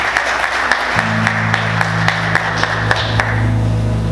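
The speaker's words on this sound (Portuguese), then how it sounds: "Você pode aplaudir Jesus?" A church congregation applauds steadily and loudly, with a low sustained organ-like hum running underneath the clapping.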